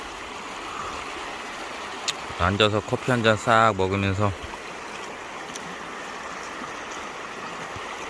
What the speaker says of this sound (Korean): 이렇게 물 흘러가는 소리 들으면